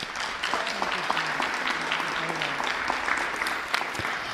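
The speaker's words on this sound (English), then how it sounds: "Another round of applause, please, for our moderators." Audience applause for the moderators at a school district candidate forum, dense clapping from a crowd that fills the whole stretch evenly.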